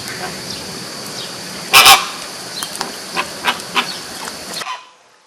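Flamingos honking in a flock, with one loud burst of calls followed by several shorter, scattered honks at moderate distance.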